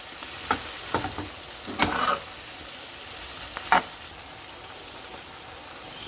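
Aloo gobi sabzi being stirred with crushed kasuri methi in a pan, giving a few scattered scrapes and soft clinks of the spoon over a faint steady sizzle, fairly quiet and without talk.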